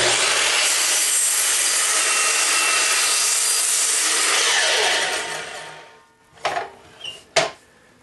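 A sliding miter saw cuts wood, a loud continuous high whine and rasp for about five seconds that winds down, followed by a few sharp knocks and clatters of the cut pieces.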